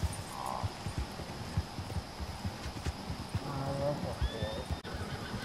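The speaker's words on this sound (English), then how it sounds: "Those are horses." Horses in Red Dead Redemption 2 whinny and neigh amid a steady clip-clop of hooves, with voices talking over the game sounds throughout.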